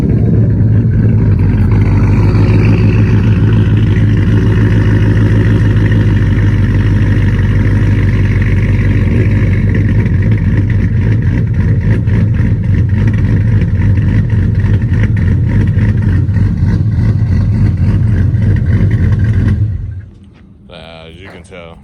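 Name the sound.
truck engine idling with a choppy lope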